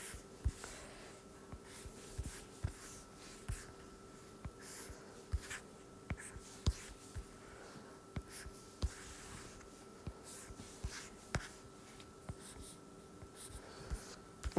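A stylus drawing lines on a tablet in Art Studio Pro, faint repeated soft taps and strokes in a quiet room with low steady hum.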